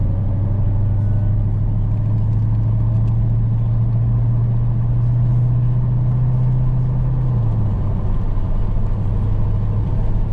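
A 2021 Dodge Charger SRT Hellcat Redeye Widebody runs over track rumble strips with a steady, loud low drone that holds unbroken for about ten seconds.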